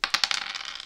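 Dice clatter onto a hard surface in a quick burst of three or four sharp clicks that settle into a short rattle, close and alone.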